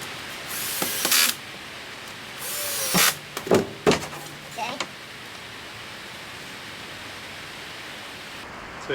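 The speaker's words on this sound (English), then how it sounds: "So I'm going to put these screws in from the back." Screws driven into the back panel of a 40-inch table with a power drill, a few short whirring bursts separated by pauses, fairly close and moderately loud.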